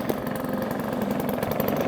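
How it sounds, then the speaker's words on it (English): A vintage Atco kick-start lawnmower with a Villiers Midget two-stroke engine runs steadily up close, giving a rapid, buzzy, even exhaust note with no talking. "when you can listen to that absolutely fantastic little 2-stroke engine"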